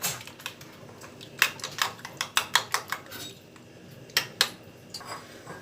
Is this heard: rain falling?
no